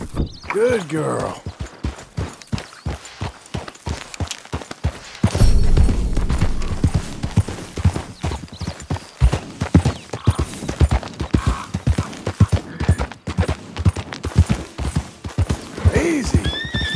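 A horse's hooves clop in a steady rhythm in the video game Red Dead Redemption 2, with a whinny near the start and another near the end, while someone talks over them.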